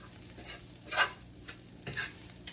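Kale gets stirred and sautéed in a pan, a low sizzle broken by two or three brief scraping stirs, short and quiet.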